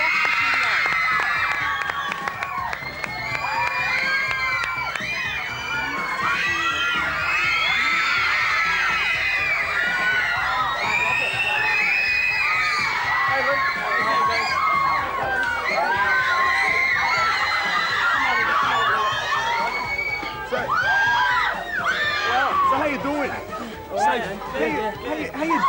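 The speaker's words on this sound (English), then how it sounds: "this screaming mayhem that seems to follow you everywhere" Screaming fans, mostly young, greet a pop band on an Australian music show, with shrill overlapping shrieks and cheers sustained loudly and densely throughout, easing slightly near the end.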